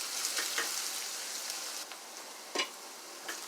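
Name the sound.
onion sautéing in a pan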